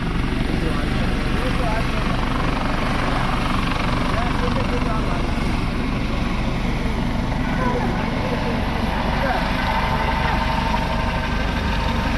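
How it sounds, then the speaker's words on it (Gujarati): A helicopter engine warming up before takeoff roars continuously and loudly, a dense, steady rumble that drowns out everything, with voices barely audible beneath it. "હેલિકોપ્ટરને તપાવવું પડે હો ભાઈ ત્યારે જ ઉડાન ભરે"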